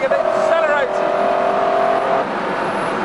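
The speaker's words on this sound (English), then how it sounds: "the most impressive part is the engine. It just goes on accelerating and accelerating." A McLaren F1's 627-horsepower V12 engine drones steadily at speed inside the cabin, with a rising tone early on as it accelerates and a voice talking over it.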